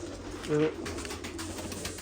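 A female pigeon gives a single short, low coo, close by, over a faint noisy background.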